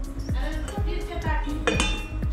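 Steel plates clink and clatter against one another in a series of sharp metallic knocks, close and fairly loud, with a faint voice in the background.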